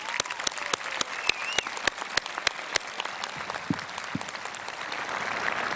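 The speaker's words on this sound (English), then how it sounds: "Let's give them a big round of applause, please" A graduation ceremony crowd at South St. Paul claps, with scattered individual claps standing out sharply at first, then merging into a denser, steadier round of applause with faint crowd murmur underneath.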